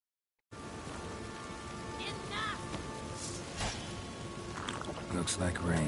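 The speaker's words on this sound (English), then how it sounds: "Looks like rain." Rain falls in a video game, a steady hiss of drops that starts abruptly and continues with some scattered louder spatters; faint game sounds mix in.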